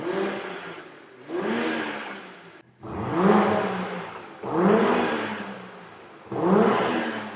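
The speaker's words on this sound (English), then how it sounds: "I'm going to give it a quick rev so you guys can make your own opinion up on it." A BMW M240i with its factory exhaust revs three or four times in a row, each rev rising and then falling away, loud and close, with no talking.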